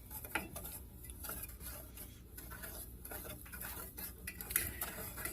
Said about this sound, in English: So you stir this all up and we'll let it come to a boil.